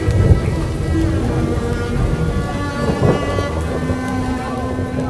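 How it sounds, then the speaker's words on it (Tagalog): Steady heavy rain pours down with a low rumble of thunder underneath, a continuous wash of sound with no voices. "Showers and thunderstorms"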